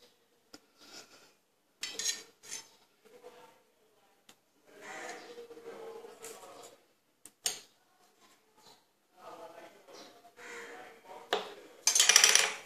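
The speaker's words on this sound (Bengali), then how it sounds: "প্রথমে আমি ইলিশ মাছটাই নুন, হলুদ, লঙ্কা গুঁড়ো মাখিয়ে নেব।" Hilsa fish pieces being rubbed by hand with salt, turmeric and chili powder in a metal bowl, giving soft intermittent squelches, scrapes and clinks in short bursts with quiet gaps, close by and fairly faint.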